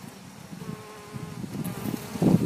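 Honeybees buzz steadily around an open hive during a brood-comb inspection, a low continuous hum that swells louder near the end, with no talking.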